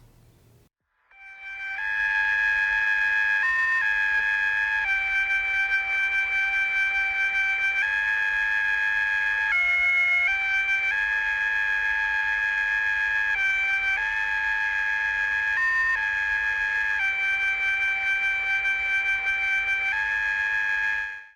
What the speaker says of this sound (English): the signal found at 9050 megahertz on the alienradio.fm site